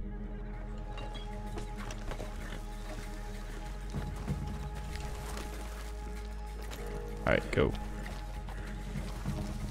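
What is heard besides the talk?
horse hooves in the video game Red Dead Online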